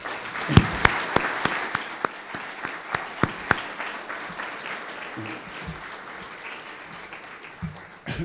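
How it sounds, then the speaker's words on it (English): An audience applauds boxing athletes at a Hall of Fame induction ceremony, a steady wash of clapping with a few sharp, close claps early on, fading slightly toward the end. "So I think we should give them a round of applause"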